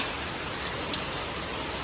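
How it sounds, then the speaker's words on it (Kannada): Heavy rain pours steadily near the Red Hills, a dense, continuous hiss of drops hitting surfaces with no pauses and no voices. "ಫುಲ್ ಅಂದ್ರೆ ಫುಲ್ ಮಳೆ ಐತಿ"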